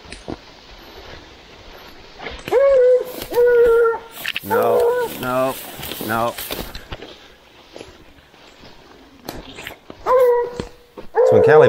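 A tracking dog barks and whines in bursts while working a wounded deer's scent trail, the calls close and loud, with a person talking softly between the bursts.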